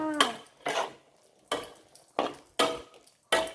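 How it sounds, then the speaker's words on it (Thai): A spatula scrapes and clanks against a pan while luffa and egg are stir-fried, about six sharp, separate strokes in an uneven rhythm, close and fairly quiet, with no talking. "ผัดเลยค่ะ"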